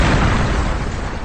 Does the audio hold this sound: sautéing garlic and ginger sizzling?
no